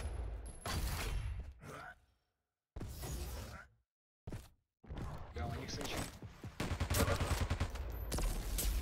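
Bursts of rapid gunfire from a Dragon Ball Z fighting game, loud and dense, broken by two short silent gaps, with game effects mixed in.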